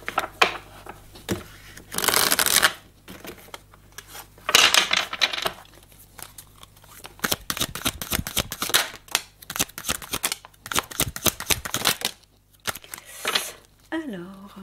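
Tarot cards are shuffled for a reading in loud, crackling bursts of riffling and shuffling, separated by quieter pauses and softer taps and handling noises, with occasional speech.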